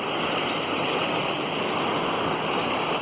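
Linn Falls waterfall near Aberlour in the Scottish Highlands, a steady, loud, close rushing roar of falling water with no voices.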